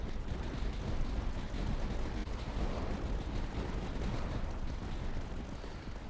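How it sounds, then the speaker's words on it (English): Light mortar positions firing in the tower-defense video game Tower Dominion, heard as a dense, continuous rumble of overlapping booms and blasts that stays loud and steady throughout without any talk. "Let's fire a mortar down that lane with the learning machines"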